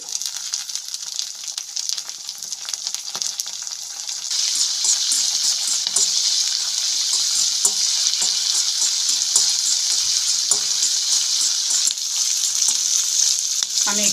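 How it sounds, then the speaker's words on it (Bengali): Diced onion and chopped spring onion frying in hot oil, left over from frying balls made with leftover roti, give a steady dense sizzle that grows louder after a few seconds, with faint stirring clicks and no talking. "ওই তেলের মধ্যে দিয়ে দিচ্ছি ডাইস করে কেটে রাখা পেঁয়াজ কিছু স্প্রিং অনিয়নের কুচি"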